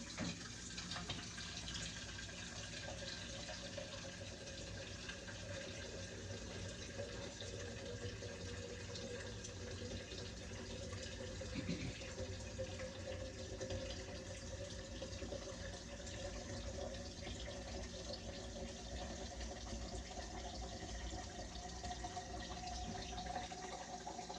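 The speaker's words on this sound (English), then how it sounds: "Now we're gonna pour some water in there." Water poured into a cooking pot for collard greens, a steady faint trickling and splashing that runs continuously at low volume.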